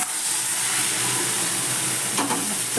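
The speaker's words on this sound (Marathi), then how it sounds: "फोडणी घातली" Tempering (phodni) sizzles steadily in hot oil while cooking urad dal varan, a constant close hiss with no talk and a brief crackle burst near the end.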